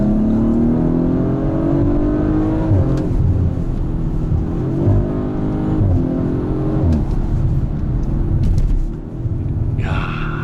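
An Audi RS5 accelerates hard on a slippery road, its engine a loud, continuous rumble with rising and falling revs heard from inside the car, no talking.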